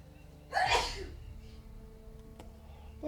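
A single sharp sneeze bursts out close by during a console game session, standing out from low background hum, followed by quieter room noise.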